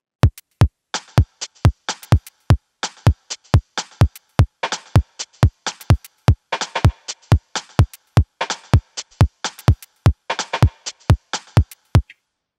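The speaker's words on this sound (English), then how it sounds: "The next sound is the second snare over here, and we're gonna use it on weak beats" A drum machine pattern plays alone on an Endorphin.es unit: punchy kicks in a steady groove with crisp snare hits, including a second snare on the off-beats.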